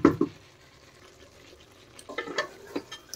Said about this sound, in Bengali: তারপর একটু নেড়ে দিচ্ছি